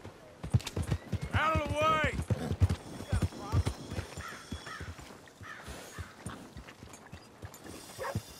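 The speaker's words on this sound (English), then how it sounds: "Good-looking horse there." Horse hooves clip-clop steadily in Red Dead Redemption 2, and a horse gives a loud whinny early on. Voices talk over the hoofbeats and other game ambience throughout.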